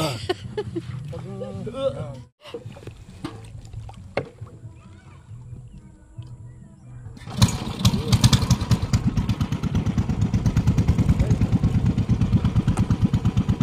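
A hired boat on Lumot Lake: first people talk and splash quietly, then after a few seconds a motor starts up and runs loudly with a steady rapid chug to the end.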